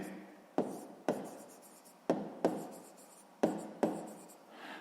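A pen scratches quickly on paper while a maths solution is written down: six short, crisp strokes come in uneven bursts, each fading before the next, quiet and close, with no talk.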